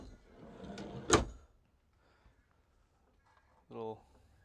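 A drawer in a small BT Cruiser motorhome galley slides and bangs shut with one sharp knock, followed a few seconds later by a shorter rattling slide.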